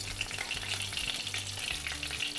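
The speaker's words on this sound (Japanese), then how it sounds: "そしてあとは裏も同じように焼き色、香ばしい焼き色をつけていきます" A Milanese-style breaded cutlet sizzles steadily in a frying pan, a constant crackling hiss with no talking.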